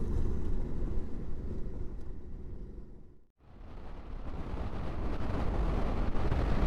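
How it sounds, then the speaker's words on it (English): Heavy wind buffeting a motorcycle rider on an adventure trip in Patagonia, a loud continuous low roar that briefly drops away to near silence at the midpoint before surging back. "This wind."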